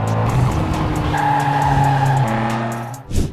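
Racing cars in a mobile racing game roar continuously with loud engine drone and rising whine, tires squealing through skids, ending in a short burst near the end; no talk.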